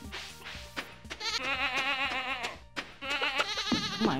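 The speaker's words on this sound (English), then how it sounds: "Oh my gosh, what a loud goat." A goat in a video game bleats loudly and repeatedly, a long wavering, quavering cry that fills several seconds up close, with a brief pause midway before it resumes.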